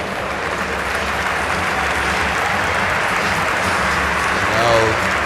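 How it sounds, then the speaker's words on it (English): A basketball arena crowd at the 2017 FIBA AmeriCup game between the USA and Panama applauds steadily as the teams leave the court, a broad wash of clapping under a commentator's voice. "Crowd applauding Panama for their effort."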